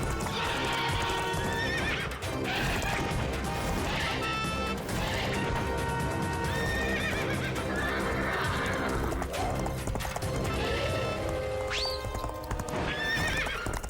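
Loud cartoon horse sounds: repeated neighs and whinnies over steady galloping clip-clop hooves, with crashing thumps during a fight on horseback, continuous throughout with no talk.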